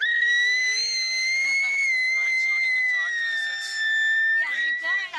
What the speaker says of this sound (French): Oui, bravo. Tu siffles fort.